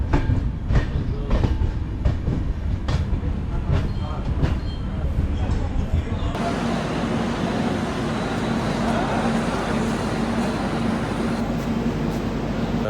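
Train arriving at Karur railway station, a loud close rumble with rhythmic wheel clatter giving way to a steadier roaring hiss, with faint voices in the background.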